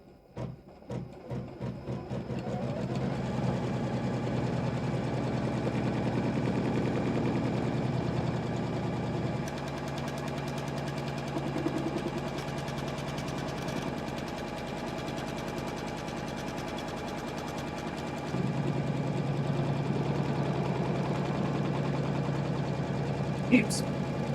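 A domestic embroidery machine stitches a rectangle outline around an in-the-hoop pencil case, a steady rapid mechanical whir and needle chatter running continuously at close range with brief shifts in pitch.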